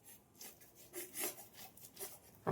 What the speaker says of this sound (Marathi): आता आपल्याला ना पूर्ण किसून घेते मी बटाटा